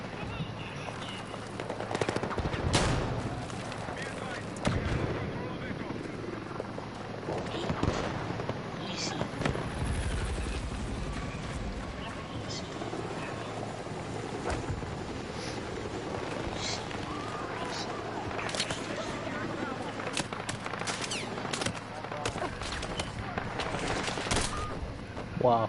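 Gunfire in the video game Battlefield 6 during sniping with a DMR: scattered sharp shots and bursts, some near and some distant, under a continuous noisy game backdrop, with a player talking over it at times.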